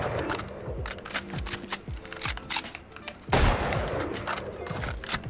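Rapid gunfire from a Tethered Realms skinned gun in Valorant: repeated sharp shots in quick, uneven bursts with echoing tails, loud and close, with a short pause partway through.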